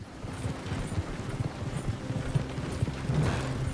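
Horse hooves clip-clopping in Red Dead Redemption 2 as the horse Jenny walks cross country, a steady, fairly quiet run of soft hoof thuds over low ambient game sound.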